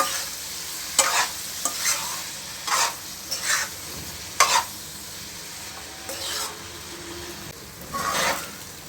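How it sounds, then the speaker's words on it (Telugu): Rice noodles (rice sevai) being stirred with masala in a pan, a spatula scraping and tossing in irregular strokes about once a second over a soft frying sizzle, close and fairly loud, with no voices. "ఈ రైస్ నూడిల్స్కి మసాలా అంతా పట్టే విధంగా బాగా కలిపేసుకోవాలి"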